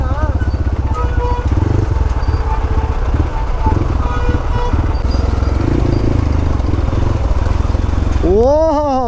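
A motorcycle engine ridden on half clutch over rough terrain on a Kerala road near Kottiyoor, a steady loud drone throughout with talk over it and a horn-like rising tone near the end.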